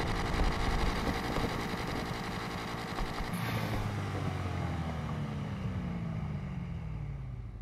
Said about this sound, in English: here is the sound for the engine